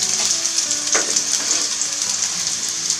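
Two potatoes fry in a pan for a Corsican ciambotta, giving a loud, continuous, close hiss and crackle of hot oil with a few brief stirring scrapes and no talking.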